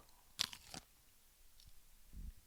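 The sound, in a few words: crunchy frozen strawberries being chewed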